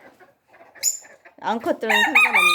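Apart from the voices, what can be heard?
Serama rooster crowing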